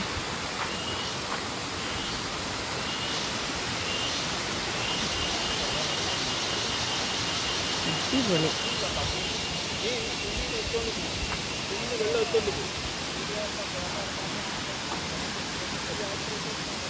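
Tiered waterfall in Bonacaud forest, a steady broadband roar of rushing water filling the scene, constant and loud, with a man's brief exclamation and bits of talk audible over it.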